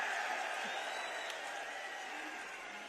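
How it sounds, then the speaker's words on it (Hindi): Faint, steady audience applause at a political gathering of the DSC community in Haryana, a continuous distant wash of clapping and crowd noise. "एक बार तालियों के साथ इनका स्वागत कर दो"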